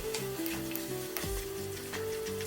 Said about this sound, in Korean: 양념이 잘 배이게 계속 잘 볶아주고요